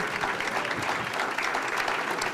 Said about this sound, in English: Can we give all the Pescadero High School students a round of applause?